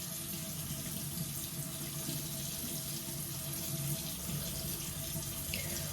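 Water pours from a shower tap in a steady, soft hiss that runs unbroken and close by, with no talking.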